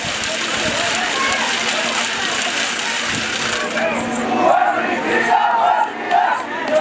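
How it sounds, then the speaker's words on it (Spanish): A crowd at an outdoor folk dance festival in Antabamba gives a sustained, noisy wash of clapping and cheering, with shouts and whistles rising over it near the end. "Fuertes las palmas, señores. Hay que aplaudir."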